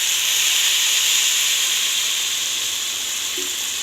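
Rice fried in ghee for rice with vermicelli sizzles loudly as water is poured in, a steady close hiss and steam that carries on evenly throughout with no voices.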